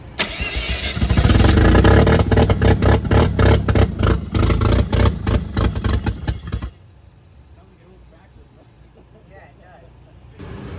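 A Mazda FC RX-7 with a swapped Turbo II rotary engine revs hard and loud for about six seconds with a rapid pulsing exhaust note, then drops abruptly to a low idle.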